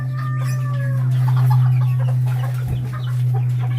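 Backyard chickens kept for breeding cluck and chatter close by, with a few rising rooster-like calls at the start over a constant low mechanical hum.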